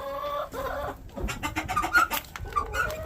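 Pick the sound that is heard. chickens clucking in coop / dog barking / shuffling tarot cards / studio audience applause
chickens clucking in coop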